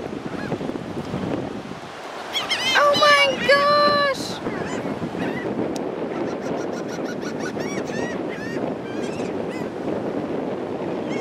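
Hungry birds being fed call out in loud honking, goose-like cries, a burst of repeated calls followed by scattered fainter ones, over steady outdoor wash, and a person exclaims briefly.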